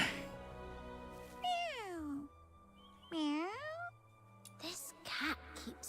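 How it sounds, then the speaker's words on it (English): A video-game cat lets out two drawn-out, bending meows, fairly close and clear, with short quiet gaps between them and brief bits of other game sound near the end. "It didn't sound like a real kitty."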